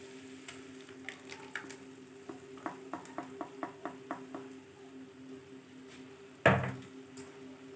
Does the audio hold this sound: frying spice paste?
yes